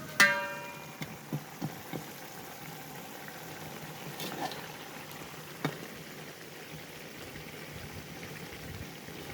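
Mutton gravy for biryani bubbles and simmers in a pot as the water cooks down, a soft steady sizzle with occasional louder pops and clinks, no talking.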